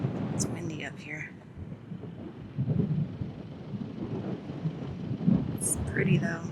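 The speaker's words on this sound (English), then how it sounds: "It's windy up here." Wind gusting across an overlook in Rocky Mountain National Park, buffeting the microphone in a steady low roar with louder swells, while a voice briefly speaks at the start and end.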